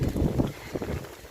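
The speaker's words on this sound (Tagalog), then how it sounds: "Sobrang mahangin." Strong wind buffets the microphone outdoors, producing a low, rumbling roar that gusts and eases over about a second.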